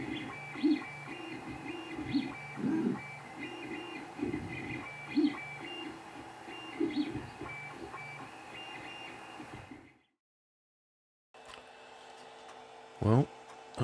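A 3D printer printing gears, with rhythmic whirring stepper motor moves and periodic chirps that repeat for several seconds, then a brief pause and a rising sweep at the end. No voices.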